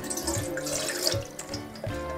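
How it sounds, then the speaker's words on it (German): Water pours into the pot of a Krups Cook4Me pressure cooker in a steady, close splashing stream with faint gurgles, with no talking. "1 ml Wasser werden angegossen."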